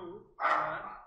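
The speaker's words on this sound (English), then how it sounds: "Oh, sorry, that's my dog." A dog lets out a single short bark nearby, fairly quiet, after a brief low murmur at the start.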